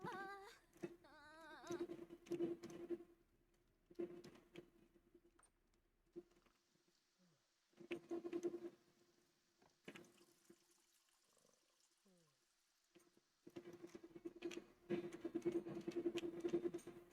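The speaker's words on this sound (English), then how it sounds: "it's raining a bit" Light rain patters softly outdoors on a summer day, with sporadic quiet drips and taps rising and falling over long stretches of near silence.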